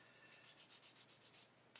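A worn 600 grit sanding stick rubs a plastic model part in about eight quick, even back-and-forth strokes, close and quiet, with a last scrape at the end.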